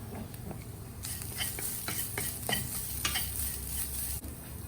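A spoon stirs turmeric powder through hot oil in a frying pan while cooking drumstick leaves, with steady sizzling and a few sharp scrapes and clinks against the pan, close and alone.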